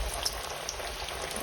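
Thick slices of green tomato fry in a cast iron pan, giving a steady, soft, close sizzle with faint crackles and no talking.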